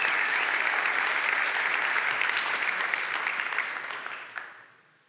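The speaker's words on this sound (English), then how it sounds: "Should we give a round of applause as well for the staff" An audience at a tech conference talk gives the staff a round of applause, dense sustained clapping from a large room that holds steady, then thins and fades out near the end.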